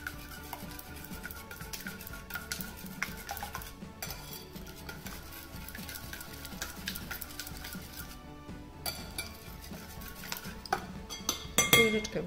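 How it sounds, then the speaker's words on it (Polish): A spoon stirs and clinks against a bowl while wet ingredients for an apple pie are mixed, giving soft, irregular scraping and light taps close by, with a louder clatter of utensils near the end. "Nasze mokre składniki też przemieszamy tak, żeby się połączyły."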